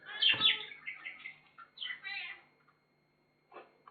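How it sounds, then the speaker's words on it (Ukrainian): An old cat meows close by in a few short, uneven calls, with a human voice talking around them. "кіт сидить нявкає"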